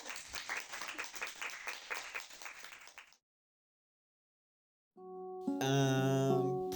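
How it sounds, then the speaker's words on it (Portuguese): An audience claps steadily and fairly close for about three seconds, then the sound cuts to silence before musical tones begin. "Podemos bater palmas?"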